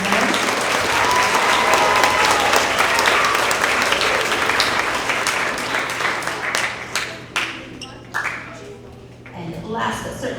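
A school assembly audience applauds 6th to 8th grade social studies award winners, with sustained dense clapping that thins out and fades toward the end.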